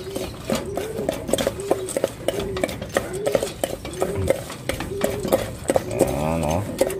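A homemade moringa powder mixture is stirred in a container, giving a steady close rhythm of scraping knocks, about two a second, while a voice talks partly over it.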